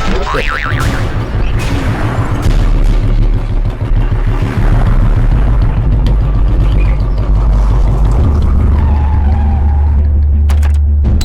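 A car with failed brakes skids loudly, a long close tire screech over a heavy engine drone that ends in a sharp crash-like burst.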